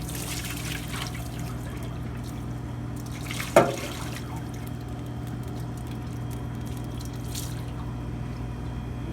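Roughly three cups of water trickle and pour in a faint, steady stream over a low background hum. One brief louder knock or splash sounds near the middle.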